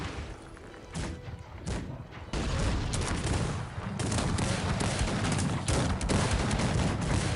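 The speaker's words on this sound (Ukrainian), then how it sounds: "Все стріляють туди." A dense volley of musket gunfire crackles and thumps continuously during a siege battle in the strategy game Cossacks 3, a loud, unbroken barrage with overlapping shots.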